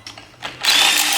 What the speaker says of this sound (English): right before we're gonna get these head studs out, I want to pop this thermostat housing off